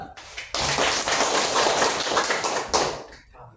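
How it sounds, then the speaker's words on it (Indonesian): A classroom of students claps their hands together in a sudden burst of dense, loud applause that lasts a couple of seconds, then breaks off and quickly tapers away. "Oke, kita tepuk tangan dulu."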